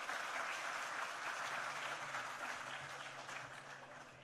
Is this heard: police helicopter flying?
no